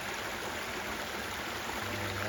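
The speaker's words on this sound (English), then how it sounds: "Look at that. Nice old waterfall." Small outdoor waterfall on a hillside, a steady broadband rush of flowing water that stays even and continuous throughout, with a faint low hum entering near the end.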